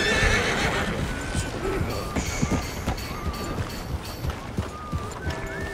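A horse in Red Dead Redemption 2 neighs loudly and repeatedly, its whinnies mixed with hoof clatter and snorting, close up and prominent over the game's background sound.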